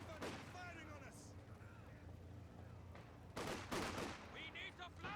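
Infantry gunfire in Company of Heroes 2 sounds as scattered shots and short bursts, with a loud cluster of sharp reports near the end, over steady battle ambience and background game voices.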